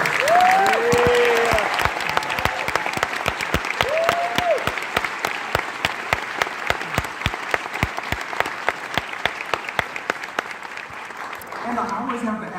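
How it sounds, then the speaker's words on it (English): Audience at a student band concert gives the band directors a sustained round of applause, a dense wash of many hands with sharper individual claps toward the end and a brief voice near the start. "So can you guys give all of your band directors a round of applause?"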